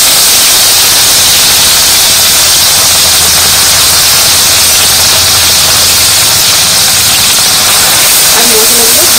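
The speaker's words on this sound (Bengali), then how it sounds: "মশলাগুলো ভালো করে ভেজে নিতে হবে।" Ground spice paste fries in oil with a loud, continuous, dense hiss that holds steady throughout.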